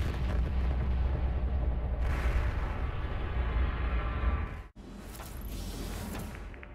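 Savior 1 rocket exploding at its launch site: a loud, sustained roaring blast that fills the whole stretch, briefly cuts out, then returns as a slightly softer rumbling wash.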